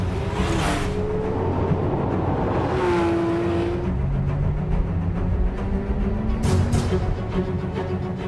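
A 2017 Porsche 911 R, with a 500-horsepower engine that revs to 8,500 rpm, climbs through the revs while driving, its rising engine tones sweeping upward over a steady, loud road roar.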